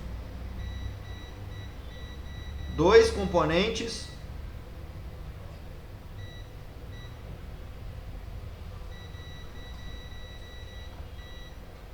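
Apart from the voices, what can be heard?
multimeter continuity beep testing circuit board components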